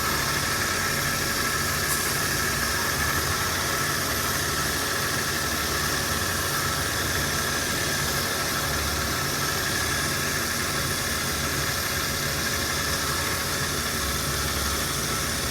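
A SsangYong Rexton's 3.2-litre Mercedes-built engine idles steadily, a continuous close-up hum with faint whine and broadband hiss throughout and no voices.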